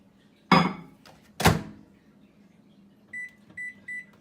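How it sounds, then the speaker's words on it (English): A microwave oven used to melt coconut butter and coconut oil: two loud clunks of the door and buttons, then a run of four short electronic beeps, close and clear with no talk. "So I'm going to pop this in the microwave."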